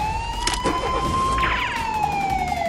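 A police car siren wails during a chase in a cartoon, one steady sustained tone rising slightly and then easing off, loud and close over engine rumble and a few brief clattering hits.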